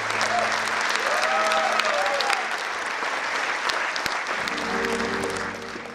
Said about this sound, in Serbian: Ovacije za Hasanaginicu u izvođenju ansambla Pirotskog pozorišta